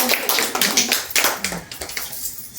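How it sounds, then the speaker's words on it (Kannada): Several guests clap together in quick, uneven bursts at a Kannada wedding gathering where a food-bundle offering is carried in, the crisp slaps fairly close and running steadily for a couple of seconds with faint voices behind. "ಚಪ್ಪಾಳೆ ಎಲ್ಲಾರದು"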